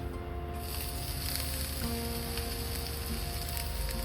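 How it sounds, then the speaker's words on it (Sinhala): Mustard seeds, curry leaves, urad dal, cinnamon and crushed ginger sizzle in hot oil for a Sri Lankan prawn curry, giving a loud, continuous close frying hiss with faint pops and no voices. "තෙල් ටික රත් වීගෙන ඉද්දි මම අබ එකතු කරගන්නවා. ඒ වගේම කරපිංචා, උළුහාල්, කුරුඳු, තලාගත් ඉඟුරු,"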